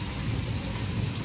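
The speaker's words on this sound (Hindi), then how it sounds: "हमने आज बारिश में एंजॉय किया" Steady rain falling outdoors with a low rumble of thunder underneath, a dense continuous hiss at moderate loudness and no voices.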